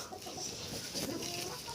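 Low, soft clucking from a broody hen, repeated in a steady murmur over constant farmyard background noise, with no talking.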